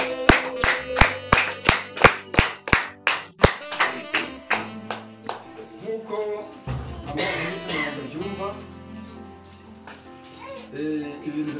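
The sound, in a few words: applause thanking David Mazimira's family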